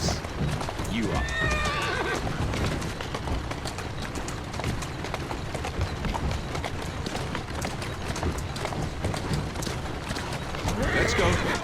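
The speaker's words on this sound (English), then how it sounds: "Who's a good horse? You are." A horse in Assassin's Creed Syndicate whinnies and neighs while hooves clip-clop steadily at a walk, with a rider's voice talking over the sounds throughout.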